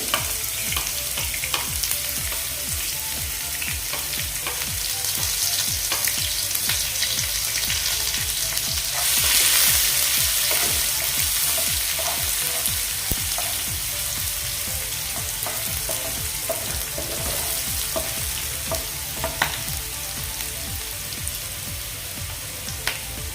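Chopped onion, tomato and curry leaves sizzle and fry steadily in a pan, a continuous close crackle with occasional stirring scrapes and no voices.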